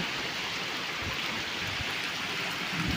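Steady rain pours down in a constant hiss, with occasional heavier drips striking a surface nearby.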